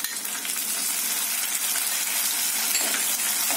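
Chopped onions sizzle steadily in oil in a pan as they fry until brown, a loud, even hiss with no pauses.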